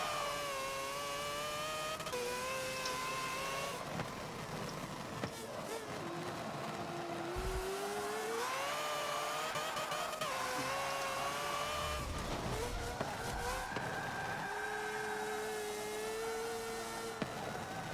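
A race car in a racing video game, set up as a drift car, revs hard and rises and falls through the gears, with tire squeals and skids, loud and continuous with no talk over it.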